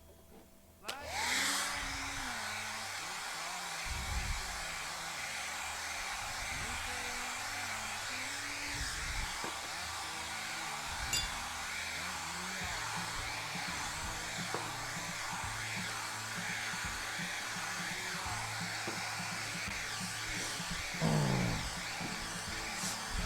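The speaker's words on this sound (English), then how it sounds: "Let's blow dry and take a shot, and we'll start after that." Hair dryer blowing steadily for over twenty seconds after a sudden switch-on, a continuous close whooshing hum with slight wavering in pitch and no talking.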